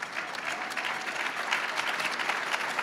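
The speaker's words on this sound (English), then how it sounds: "Give us a big round of applause" An audience at the 2013 César E. Chávez Excellence Awards and Scholarship gala breaks into dense, continuous applause, a steady wash of many hands sustained at even strength without talk.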